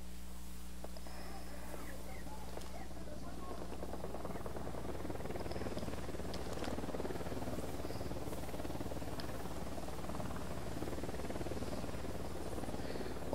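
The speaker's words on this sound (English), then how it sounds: "All that Unidad helicopters flying over." Unidad military helicopters flying over in a video game, a continuous low rotor drone and engine hum held steadily at a distance throughout, with faint ambient game sounds.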